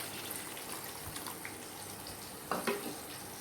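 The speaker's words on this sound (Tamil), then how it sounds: "கறந்து வச்சுருக்கோங்க புளி தண்ணியை" Tamarind water poured into a fish curry in a home kitchen, a faint, steady watery rush with a slightly louder splash near the end.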